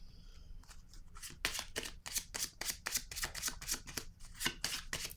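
Tarot cards being shuffled by hand, a rapid run of crisp riffling flutters that repeats in quick bursts, close and clear with no talking.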